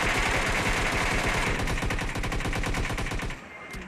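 Rapid automatic gunfire from the video game PUBG rattles continuously and loudly, dense bursts of shots filling the clip before easing off at the end.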